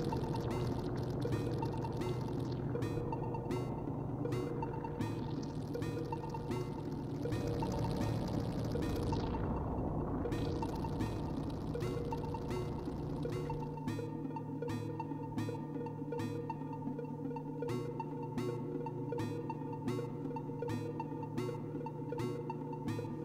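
A synthesizer sound routed through a second oscillator gives a sustained electronic drone with swooping pitch sweeps in the middle, then settles into a steady tone with rhythmic stepped pulses, moderately quiet and without talk.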